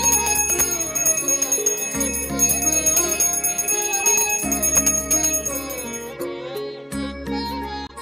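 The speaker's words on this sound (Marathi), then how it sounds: "कशी घंटी वाजवत आहे" A hand bell rings rapidly and continuously during a Navratri aarti, its bright metallic peals layered over devotional music playing throughout.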